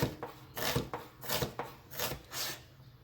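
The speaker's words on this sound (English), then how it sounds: "And you just cut it straight down." A knife slicing an onion on a cutting board in a home kitchen, five or six evenly spaced rasping cuts, close and fairly soft, with no talking.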